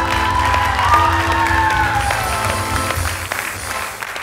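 A studio audience on a comedy talk show claps and cheers loudly, a dense crowd roar with whoops and a rising shout early on, easing slightly toward the end.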